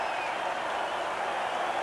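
A baseball stadium crowd cheers and applauds in a dense, steady roar after a home run in a Rockies versus Expos game in 1993.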